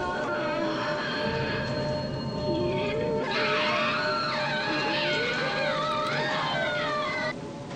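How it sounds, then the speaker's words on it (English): A drawn-out, wavering scream from the horror game Fatal Frame: Maiden of Black Water rises over a dense, droning ambient bed, swelling mid-clip and sustained for several seconds before cutting off near the end. "It's quite the scream there."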